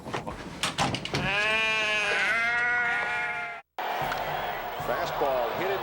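A lamb bleats loudly in one long, quavering cry, the sound cuts off abruptly, and another brief bleat follows under a voice.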